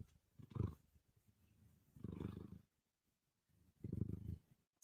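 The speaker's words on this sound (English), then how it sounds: "It's kitty purring." A cat lying in a basket purrs in three slow, rumbling swells separated by short pauses, close and soft, with no talking.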